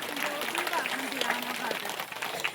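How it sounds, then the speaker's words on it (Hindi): Applause from a village gathering welcoming a woman schoolteacher, a steady moderately quiet wash of clapping with voices and a singing or speaking tone threaded underneath. "जोरदार तालियों से स्वागत और अभिनंदन"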